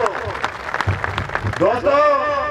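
Workers at a labour rally about the labour codes clap, a ragged burst of hands for about a second and a half, before a voice takes over loudly on a public address system.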